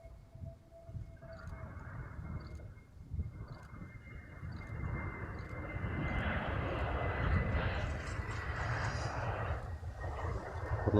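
Airliners at Amsterdam Schiphol airport, a new Transavia A321 and a KLM 737, with a jet roar that grows steadily louder and fuller over the clip as one passes nearby.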